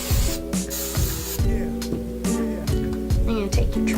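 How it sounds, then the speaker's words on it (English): Hairspray is sprayed onto sectioned hair in short, repeated hissing bursts, about eight in four seconds, heard up close over a steady low hum. "And you're also going to get some hairspray."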